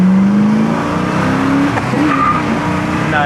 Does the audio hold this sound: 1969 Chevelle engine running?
yes